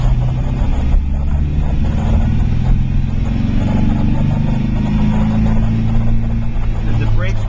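A 1972 MGB GT on the move along a twisty road, its engine a steady, loud drone with road and wind noise throughout and no breaks.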